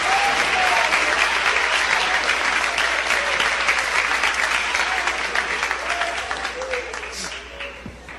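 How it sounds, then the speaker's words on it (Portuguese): A church congregation claps together for a sustained stretch, dense steady applause filling the room and tapering slightly toward the end. "podem louvar a Deus com as palmas para Jesus."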